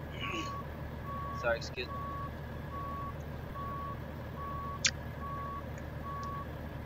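Truck reversing alarm in American Truck Simulator, a steady series of evenly spaced electronic beeps repeating about eight times, with a short spoken remark over it.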